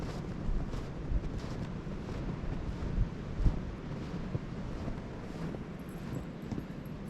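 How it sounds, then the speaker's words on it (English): Steady wind blowing outdoors on a very windy day, a continuous broadband rush with gusty swells and low rumbling buffeting against the microphone, no talking. "it's going to be very windy today"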